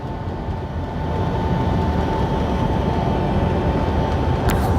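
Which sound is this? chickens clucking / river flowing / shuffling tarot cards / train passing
train passing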